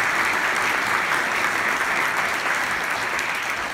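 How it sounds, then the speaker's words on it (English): An audience at the Nobel Museum in Sweden applauds steadily, a dense, even wash of clapping from many hands that holds for several seconds without a break or talk. "which I think is worth an applause."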